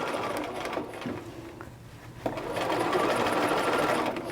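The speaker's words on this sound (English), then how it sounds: "just go around and sew everything in place at your 5/8 inch seam line" A sewing machine stitches a gathered skirt seam at 5/8 inch, its motor whirring steadily, easing off briefly mid-way, then running fast and loud again, close up and alone.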